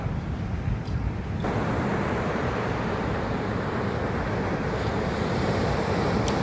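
Large ocean waves crash and roar continuously at Depok beach in Parangtritis, Bantul, Yogyakarta, a loud, dense surf wash with wind noise buffeting the microphone throughout.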